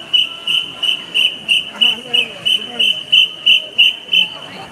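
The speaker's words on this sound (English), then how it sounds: "It's the police that are blowing the whistle." Police whistle directing traffic at a summer festival at Tsukuda Sumiyoshi Shrine in Tokyo, a loud shrill whistle blown in a steady repeating rhythm of short blasts, about a dozen in quick succession, with faint voices underneath.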